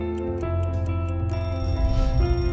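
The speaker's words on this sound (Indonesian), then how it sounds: "Setiap pagi mungkin kita bangun karena dengar suara alarm di HP kita" A mobile phone alarm rings in the morning with a repeating electronic chime, bright tones pulsing in a steady pattern at close range, loud and continuous with no voices.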